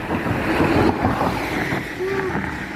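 Surf and wind along the Chanthaburi sea coast in Thailand, with fishing boats nearby: a continuous washing rush of waves mixed with gusty wind noise on the microphone, and a faint tonal sound near the end.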